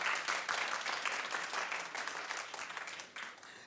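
Studio audience at a daytime talk show clapping in a brief, dense burst of applause that swells and then fades unevenly, with no talk over it.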